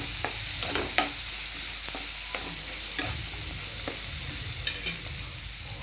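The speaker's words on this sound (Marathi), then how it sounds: "परतून घ्यायचं" Ridge gourd sautéing in a pan with turmeric, red chilli powder and homemade black masala, a steady broadband sizzle with intermittent scraping stirs and light clinks, close and continuous, no voices.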